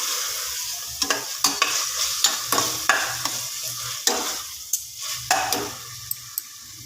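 A spoon stirs spiced mutton fry in a hot pan, tapping and scraping the metal in irregular clicks over a steady, soft sizzle of frying oil, recorded close up.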